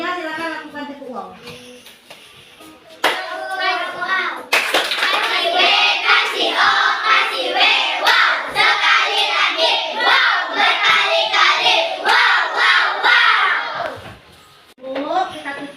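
Classroom children clap their hands in a long, busy burst that swells and then fades, with children's voices talking before it and mixed in underneath.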